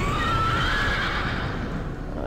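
A horse mount neighs in World of Warcraft, a loud drawn-out whinny with a rising pitch that fills the whole short stretch alone, with no talk over it.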